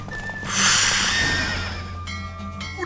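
A horse in a race in The Witcher 3 lets out a loud, breathy whinny that swells and fades, followed by faint snorts and hoof sounds.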